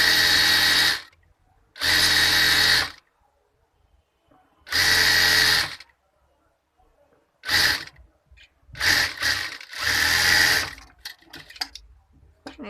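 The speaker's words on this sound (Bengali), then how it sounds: "এখন দ্বিতীয় পাটটাও সেলাই করে নিব।" A sewing machine stitches girls' half pants in short bursts, each a loud, close, buzzing run lasting about a second, separated by silent pauses and faint handling clicks.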